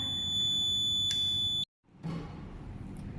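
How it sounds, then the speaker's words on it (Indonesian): A buzzer in an AND/OR logic gate circuit test sounds with a steady high-pitched electronic tone, close and continuous, then cuts off abruptly before faint background noise resumes. "A sama dengan 1, B sama dengan 1, dan C sama dengan 1. Hasilnya buzzer akan menyala."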